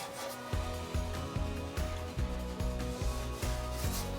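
A scouring pad scrubbing a Blackstone griddle, quick rhythmic back-and-forth strokes about every half second, gritty and fairly faint, with no talking.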